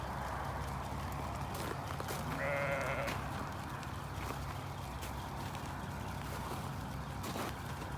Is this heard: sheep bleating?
yes